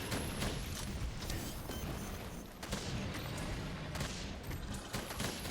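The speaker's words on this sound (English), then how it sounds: "Okay, it took 8 shots to paralyze her." Paralysis ammo fires repeatedly in Monster Hunter World during an Arch Tempered Kulve Taroth hunt: several sharp gunshot bursts at uneven intervals, with mechanical clacks and crashing impacts between them.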